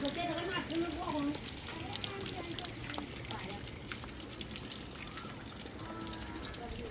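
Rainwater pours and gushes off village rooftops in a hilly area just after rain, a steady broadband wash of flowing water with light rain still falling, close and continuous, with a voice talking at the start.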